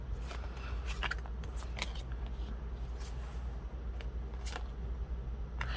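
Tarot cards are shuffled and drawn in a quiet room, with soft riffling, flicks and light card snaps at irregular intervals over a low steady hum.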